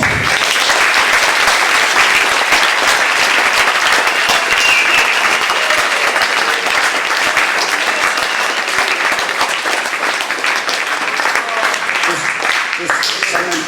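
Loud, sustained applause from a student audience at a talk in Hamburg, dense clapping filling the room at an even level throughout, with a few voices mixed faintly into the noise.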